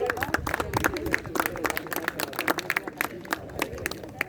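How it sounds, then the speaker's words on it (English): Audience applause for the winning team at an inter-school cricket felicitation ceremony, scattered hand claps rising in bursts over a crowd murmur, moderately loud and close, with some talking mixed in. "A huge round of applause for the winning team."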